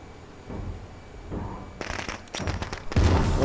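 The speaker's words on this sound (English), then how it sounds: "Fire in the hole! Firecracker!" Firecracker exploding in the video game State of Decay 2, a rapid string of sharp cracks and pops in uneven bursts, growing louder and denser toward the end, with no talking.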